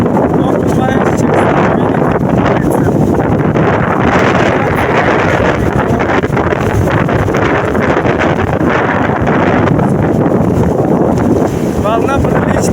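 Gusting wind roars loudly and constantly across a microphone beside a rough, storm-tossed sea at Neptun, with waves rumbling beneath the blustery noise.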